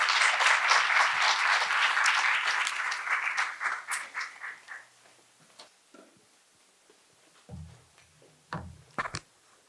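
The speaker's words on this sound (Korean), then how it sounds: "박수로 환영해 주시기 바랍니다." An audience at a university faculty seminar welcomes a lecturer to the stage with full applause that gradually thins and fades over about five seconds, followed by scattered knocks and footsteps in a quiet hall.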